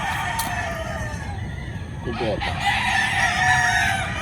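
A rooster crows at a farm resort in Tarlac, one clear, fairly close call over steady outdoor background noise, with faint voices in the distance.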